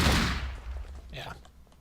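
Booming shotgun blast from a game in a creeper bunker setting, loud at the onset and fading, followed by a brief softer burst.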